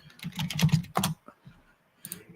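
Quick clatters of keys come from a computer keyboard as someone types a short word in fast bursts, then pauses before a few final taps, all nearby.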